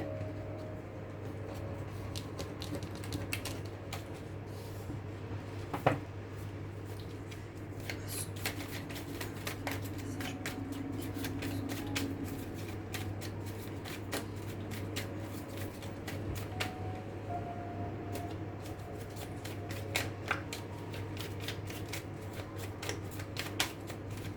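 Tarot cards are shuffled by hand with continuous soft riffling and slapping, closely miked, and occasional sharper card snaps over a low steady hum.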